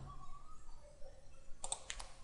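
A few quick mouse clicks in Autodesk Inventor 2015 CAD software, close and fairly faint, coming in a short burst at the end after near silence.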